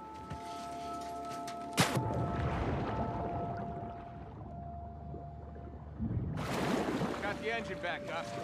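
A boat engine on open water in The Last of Us Part II gives a steady low tonal hum under sweeping washes of water and wind, with a sharp knock early on and a surge of spray later.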